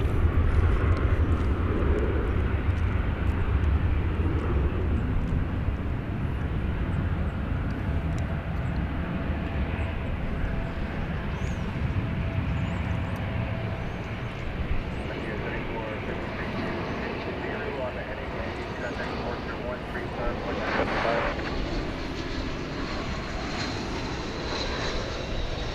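A Volaris airliner passes at DFW Airport with a steady, loud jet engine roar that fills the whole stretch, swelling slightly near the end, while a radio voice talks over it.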